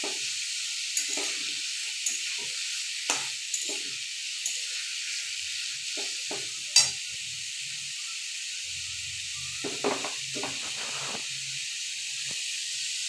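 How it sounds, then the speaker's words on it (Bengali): Potatoes frying in a pan while salt is stirred in: a steady bright sizzle and hiss runs throughout, broken by scattered scraping stir strokes and a few sharper clinks, moderately close with no talking. "এবার আরও ভালো করে নুন দিয়ে নুনটাকে পুরো মিশিয়ে দেওয়া হচ্ছে"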